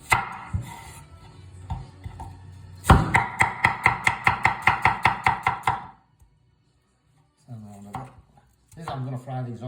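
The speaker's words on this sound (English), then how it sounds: "Okay, so I'm going to chop the onions up." Onions being chopped on a board, a steady run of about a dozen quick, close knife knocks followed by quiet, with a voice speaking before and after.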